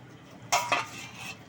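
A metal lid lifted off a covered pot of simmering vegetables, two quick clanks close together followed by a soft scrape, quiet otherwise.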